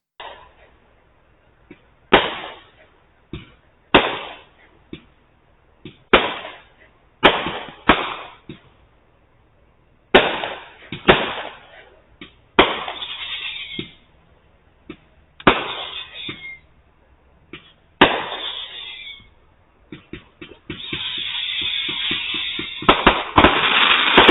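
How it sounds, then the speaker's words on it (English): Repeated sharp bangs from a neighbor's fireworks with crackling tails, recorded by an Annke WiFi floodlight security camera, booming every couple of seconds, ending in a dense burst of crackles and pops. "the clip after this is the neighbor's fireworks going off"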